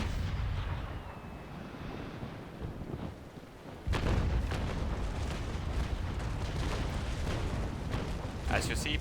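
Ship cannons firing a broadside in the age-of-sail game Naval Action, a dense rolling series of heavy booms that swells after a brief lull into continuous rumbling blasts, with someone talking over it.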